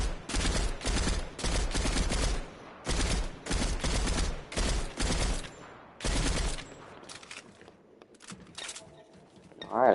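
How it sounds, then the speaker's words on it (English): Rapid bursts of gunfire ring out in a snowy survival video game as shots are fired at snow patches, loud volleys separated by short gaps that thin out toward the end. "we're gonna shoot the snow patches"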